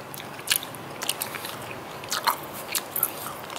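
Crisp bites and chewing on spicy rice paper rolls coated in satay chili sauce, quiet close-up crunches that come in short irregular bursts with no talk.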